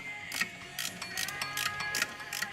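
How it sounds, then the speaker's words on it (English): A ratcheting wrench clicks in quick repeated strokes while loosening the lower alternator bolt on a 2004 Chevy Trailblazer, close and crisp with short pauses between bursts. "Remember, ratcheting wrenches are your friend."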